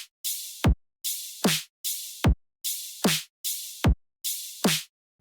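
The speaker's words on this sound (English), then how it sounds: "And altogether the drums just sound like this." A synthesized drum loop repeats a steady pattern of bright, noisy snare hits and crisp hi-hats. Each cycle ends in a deep pitched kick tuned to G that sweeps downward. The hits are clean, loud and alone with no voices.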